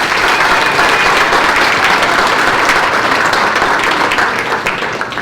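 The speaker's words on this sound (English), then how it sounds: "Let's give her one more round of applause." Audience applause fills a talent show venue, steady dense clapping from a large crowd, loud and continuous throughout with no talk over it.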